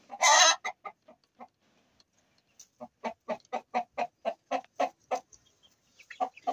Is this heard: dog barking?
no